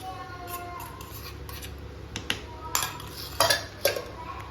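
Sweet sakkara pongal being stirred in a pot after roasted cashews and raisins are mixed in, with soft scraping and a few sharper spoon clinks against the pot that grow louder toward the end, close up and without speech.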